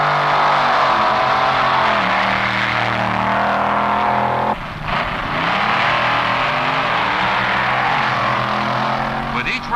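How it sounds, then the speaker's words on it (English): A Chevy-powered B-Comp drag racing car at the 1963 NHRA Winternationals roars through an elimination run, a loud sustained engine drone with pitch sweeps and a brief break midway, heard from nearby. "Jess Van Deventer moves out to an easy win in his first round of eliminations with his Chevy-powered B-Comp car"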